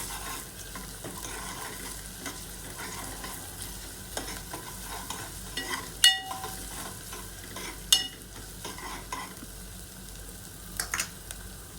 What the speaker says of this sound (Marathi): आता यामध्ये मी अद्रक लसूणची पेस्ट ॲड करते आणि याला पण मिक्स करून घ्या।